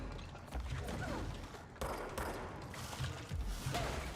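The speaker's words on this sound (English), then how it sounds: "Oh, I'm getting shot at by something explodey." Explosive enemies firing at the player in the video game Control, heard as scattered thuds and bursts of gunfire at moderate volume over a busy game mix.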